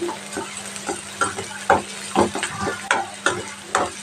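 Onion pieces frying in oil in a pan before bitter gourd goes in: a low sizzle under a rhythmic series of sharp spatula scrapes and taps, about two per second, close and with no voices.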